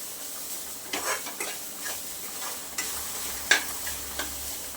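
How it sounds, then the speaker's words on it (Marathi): Grated fresh coconut roasts in a pan on medium heat with cardamom powder for coconut barfi, a steady soft sizzle under periodic spoon scrapes and one sharp metallic tap, with no talking. "मीडियम गॅसवरती थोडंसं खोबरं परतून घ्यायचं आहे"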